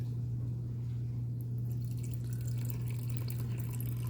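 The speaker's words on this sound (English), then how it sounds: "I'm gonna add 150 grams of water." Warm water poured onto a sourdough starter mixture in a bowl, a faint steady trickle with small drips and splashes growing busier toward the end, over a constant low electrical hum.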